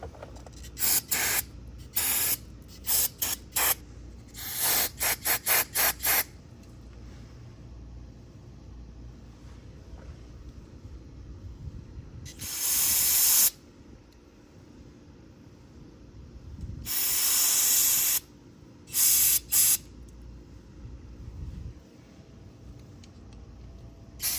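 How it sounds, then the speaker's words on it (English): Cleaner sprayed in loud bursts onto a carburetor part from a Honda GCV160/GCV190 pressure washer engine: rapid short hisses, then a few longer sustained sprays, close to the microphone with quiet gaps between them. "So we'll go ahead and spray this whole thing down"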